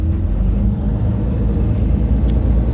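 Steady low rumble of a bus driving along a road between Sollentuna and Solna in Sweden, heard from inside as a continuous close engine and road drone with no voices.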